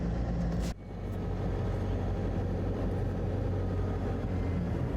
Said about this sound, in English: Let's drive to our job site.